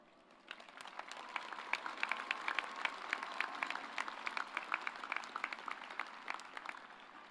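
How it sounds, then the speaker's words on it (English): A commencement crowd breaks into applause, swelling quickly after a quiet start and holding as a steady spread of individual claps, faint and somewhat distant. "let's take a moment to give a round of applause to the people who have helped us get to where we are today."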